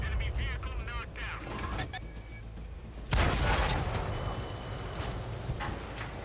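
Tank gun firing in World of Tanks on console, aimed at a heavy tank's lower plate: quieter mechanical and game sounds come first, then a sudden loud boom followed by a sustained rumbling tail, with talk throughout.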